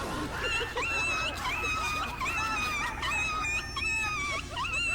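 Dogs on a rural Filipino farm, with pigs and chickens kept nearby, whimpering and wailing in a continuous, rising-and-falling chorus of high whines and yips, fairly close and steady across the whole stretch.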